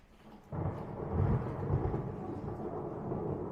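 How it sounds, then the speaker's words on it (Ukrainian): A deep rolling thunderclap breaks in suddenly and rumbles on at length over steady rainfall. "Гроза"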